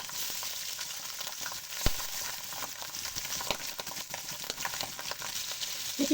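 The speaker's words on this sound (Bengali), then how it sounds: "তেল গরম হয়ে আসছে, ভাজার জন্য মাছগুলো দিয়ে দিচ্ছি" Pabda fish fry in hot cooking oil, giving a steady, close sizzling hiss with scattered crackles and pops, one sharper spatter near the middle, and no voices.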